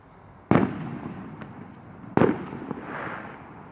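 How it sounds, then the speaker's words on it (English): Two sharp firework bangs go off outdoors at night at a ruined abbey on Halloween, about 1.7 seconds apart. Each blast rolls away into a crackling echo against a low background hum. "All these bloody fireworks."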